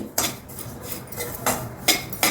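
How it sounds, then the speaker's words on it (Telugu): Grated coconut roasting in a pan for rava laddu, heard as four sharp metallic scrapes of a spoon against the pan at irregular intervals, close and fairly loud, over a faint background with no talking. "ఇలా చక్కగా ఒక ఐదు నిమిషాలు వేయించండి"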